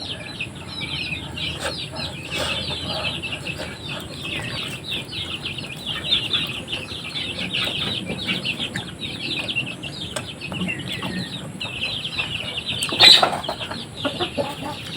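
Dense, busy clucking and squawking from a flock of chickens, continuous and fairly close, with wing flaps and a louder burst near the end, in a mountain setting.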